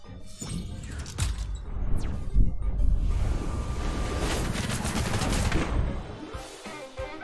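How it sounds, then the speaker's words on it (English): Rapid automatic-fire bursts from the Feather Gatling attack in the video game Temtem, a dense, loud clatter of repeated shots with sharp impacts, running continuously for several seconds with no talk. "And we'll finish it out with the Feather Gatling."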